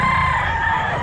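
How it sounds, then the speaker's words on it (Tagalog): Rooster crowing loudly and close among chickens at a poultry market in Bocaue, a single sustained crow heard alone. "Ito mga manok na mga boss oh."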